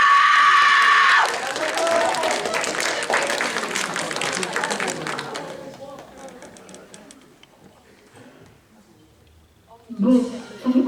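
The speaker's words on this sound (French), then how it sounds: "On compte sur vous pour applaudir très fort Satsuki" An audience at a cosplay contest applauds loudly for a cosplayer, with a cheer rising at the start; the clapping is dense and strong for several seconds, then dies away, and voices speak near the end.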